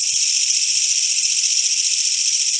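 A gadget mimics a swarm of emerald ash borer insects with a dense, steady, high-pitched hiss and chirr. The sound is loud and continuous, with faint low clicks underneath.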